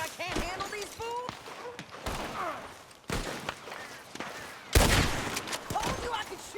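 Gunfire in Red Dead Redemption 2 during a shootout, several sharp shots and bursts cutting through game dialogue and other voices, with one especially loud blast near the end.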